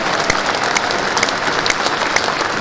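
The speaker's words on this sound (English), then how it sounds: "How about a big round of applause for Mr." A dense, loud round of crowd applause for custom motorcycle builder Allen Millyard at the MCN London Motorcycle Show, with many hands clapping steadily and close by and no voices over it.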